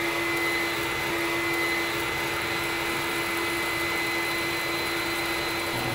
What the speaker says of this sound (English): There's a shop vac back here, and so all the husk gets sucked off over there